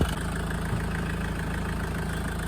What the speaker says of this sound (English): So I'm just running the engine and trying to get the engine hot